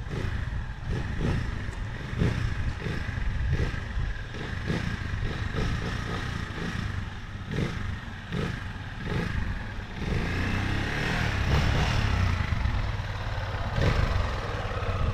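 A motorcycle engine putters along at low revs with gentle throttle blips, steady and close, with some clattering road noise.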